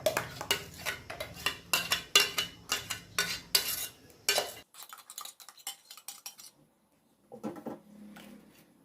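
A spoon scrapes ripe mango paste through a metal sieve for aamsotto in quick, rhythmic, close strokes, then pauses before a few softer scrapes resume.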